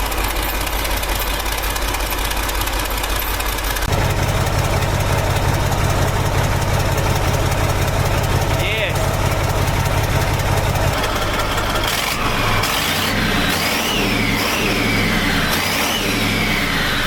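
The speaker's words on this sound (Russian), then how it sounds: "Но чуть-чуть слышу звук крыльчатки." A turbocharged MAZ truck engine, set up for racing, idles steadily and loudly up close, with a faint whistling turbo impeller whine riding above the low rumble; the engine note changes partway through and picks up a rhythmic pulsing toward the end.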